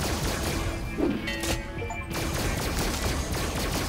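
A blasting weapon fires in Five Nights at Freddy's Help Wanted 2, giving a dense, continuous barrage of loud crashing shots with a brief dip in the middle.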